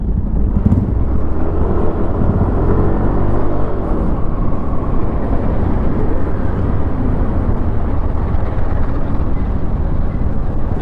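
A 2024 Yamaha Aerox 155 Version S maxi scooter on the move, giving a constant low engine drone with heavy wind rumble throughout.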